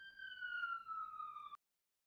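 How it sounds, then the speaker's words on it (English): A police siren holds one long wailing tone that drifts slightly downward, then cuts off abruptly, leaving silence. "These freaking sirens."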